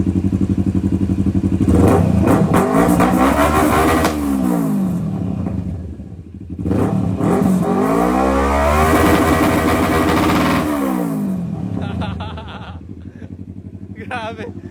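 Kawasaki Z650 and Honda CB650R motorcycles with aftermarket exhausts, revved hard in repeated long pulls that rise and fall, loud and close, with people talking over the engines.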